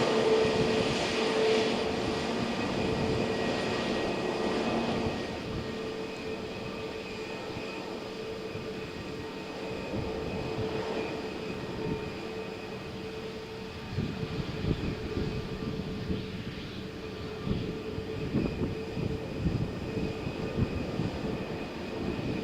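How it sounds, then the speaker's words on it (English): SAS airliner departing Malaga Airport for Oslo on a stormy morning, its engines a low, steady rumble and hiss at moderate distance that swells early, eases, then rises again with gusty crackle toward the end. "So, SAS flight to Oslo."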